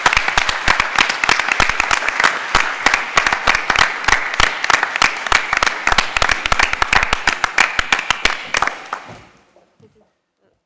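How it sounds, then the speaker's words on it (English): An audience at a Pathways to Justice event gives Attorney General Kamala Harris a round of dense, energetic applause. The clapping stays full for several seconds, then thins and fades to silence. "Can you please give another warm round of applause for Attorney General Kamala Harris?"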